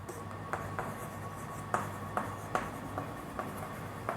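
Chalk or marker tapping and scratching on a board during a physics lesson, faint and distant, a series of short irregular strokes over a steady low room hum.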